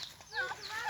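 A chicken clucks in a short, close burst of squawky notes, with voices talking over it.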